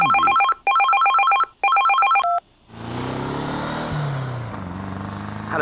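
A mobile phone rings in the Die Drei Fragezeichen video game: a loud electronic ringtone in repeated bursts, then it cuts off and a low rumbling background takes over.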